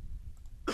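A single short cough bursts out near the end after a quiet stretch, loud and close, during a German gaming session recording.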